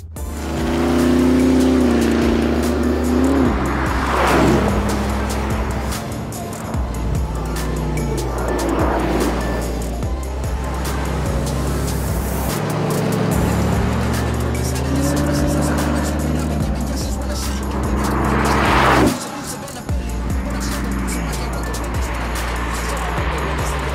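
Koenigsegg Regera hypercar driven flat out, its engine roaring and surging through repeated rising passes, loud and close, with a sharp drop near the end before the drone resumes.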